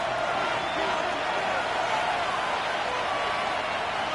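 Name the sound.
stadium crowd noise in an American football video game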